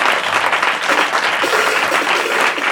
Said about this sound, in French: Acclame Jésus si tu es d'accord.